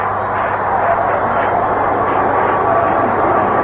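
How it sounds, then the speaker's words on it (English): Helicopters hover over a lit baseball stadium at night, making a steady, loud droning wash that holds without a break, with no talk over it. "Helicopters buzzing overhead here at the stadium."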